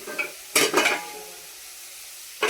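Corn is tempered in a hot pan at home: sharp sizzling bursts and stirring clatter come in two quick surges, fade to a low hiss, then flare again near the end.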